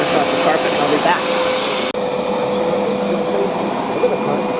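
A Hoover SmartWash automatic carpet cleaner runs on carpet with a loud, steady motor whine and suction roar, close to the microphone and briefly cut at one point.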